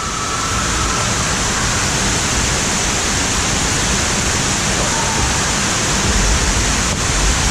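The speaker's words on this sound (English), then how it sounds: "We've got all these waterfalls and fountains all the way around." Waterfalls and fountains splash all around inside a dark theme park ride at Parc Astérix, a loud, steady rushing wash of water that fills the whole stretch without a break.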